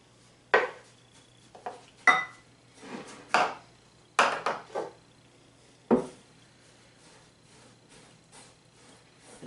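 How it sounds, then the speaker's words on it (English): Peanut butter and granulated sugar mixed in a bowl, heard as a series of loud, separate scraping knocks of a utensil against the bowl at irregular intervals, close and alone. "take a cup of peanut butter, mix that into a bowl with a cup of sugar"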